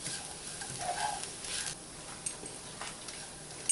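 Sabudana khichdi with green chili and crushed peanuts is stirred in a pan, soft sizzling with scraping strokes of the spoon at a moderate distance.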